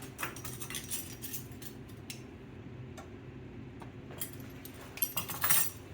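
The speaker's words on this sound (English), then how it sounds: "I'm using a metal spoon in your non-stick pans" Metal spoon stirring in a non-stick pan during crab bisque cooking: quiet irregular clinks and scrapes over a low simmering bed, growing busier and louder near the end, no talking.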